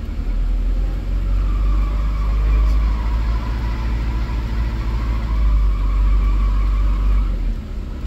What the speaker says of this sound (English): So when I bring the RPMs up, I start to hear this squeal.